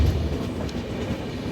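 Passenger train of the 14618 Amritsar–Purnia Court Jansewa Express rolls over the rails with a steady, loud low rumble and faint wheel clatter, heard from close by without talk.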